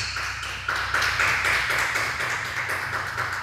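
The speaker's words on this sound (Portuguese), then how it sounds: "vamos aplaudir o Senhor Jesus" A church congregation clapping for Jesus during a sermon, a sustained rhythmic crowd of hands with a low musical backing underneath.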